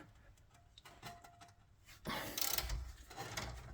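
Wrench working a 15mm tie rod ball joint nut on a Jaguar XK, a few soft ratcheting clicks followed by louder metallic scraping and clattering close by.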